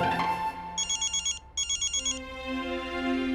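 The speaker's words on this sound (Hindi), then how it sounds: "तुम्हारा फोन बज रहा है।" A mobile phone ringtone plays a bright electronic melody in two quick bursts of repeated notes, over a soft musical background in an indoor domestic scene.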